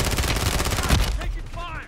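Rapid automatic gunfire rattles loudly and continuously in a Call of Duty match, a dense burst of shots that breaks off near the end with a few trailing sounds.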